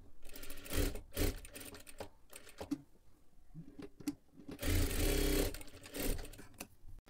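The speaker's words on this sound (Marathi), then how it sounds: "आता इथे आपण पूर्ण शिलाई करून घेतलेली आहे" A sewing machine stitches the lining of a sleeve in several close bursts of rapid mechanical whirring, with a longer steady run near the end and quieter handling between the bursts.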